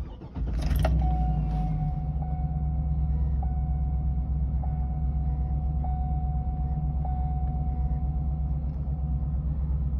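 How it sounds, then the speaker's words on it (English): A 2008 GMC Sierra Denali engine fires up from cold with a quick crank, then settles into a deep, steady idle rumble close by, with a faint periodic chime ticking over the drone. "This is a cold start."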